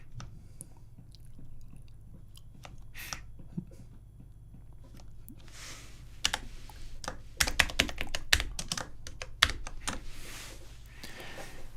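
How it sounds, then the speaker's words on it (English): Fast, clattering typing on a computer keyboard, close and fairly loud, with irregular bursts of keystrokes over a low background hum. "My typing is rather loud,"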